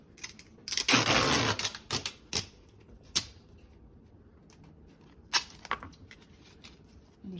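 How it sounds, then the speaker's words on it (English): White duct tape is pulled and pressed along a packaging seam, giving a long ripping unwind followed by scattered crackles, sharp taps and short tears. The sounds are close and fairly quiet, with gaps of near silence between them. "we'll be using some white duct tape just to bind this right here"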